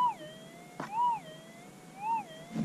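A metal detector sweeping for gold nuggets among trees gives a warbling electronic tone that rises and falls in repeated sweeps, close and clear.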